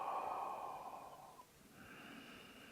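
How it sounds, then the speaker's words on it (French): Slow, quiet breathing during a guided relaxation exercise: a long airy exhale that fades out, a short pause, then a softer inhale, close and alone with no talking. "Et quand je dis respirer, c'est respirer lentement."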